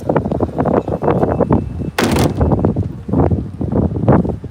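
Strong wind buffets the microphone outdoors at Kennedy Space Center in Florida, a loud, gusty rumble in repeated bursts with one sharp roaring blast partway through.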